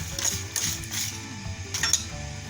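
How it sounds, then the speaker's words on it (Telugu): A mixer grinder grinds roasted green grams, producing a mechanical rattling whir with several sharper gritty bursts repeating at a fairly even rhythm, moderately loud and without any voices. "వేడి చల్లారిపోయిన తర్వాత మిక్సీ కొట్టుకున్నాము"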